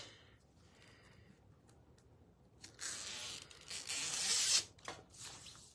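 Scissors slide under and cut through a craft transfer sheet, making one close, quiet, rasping cut that lasts about two seconds after a near-silent lead-in, with no voices.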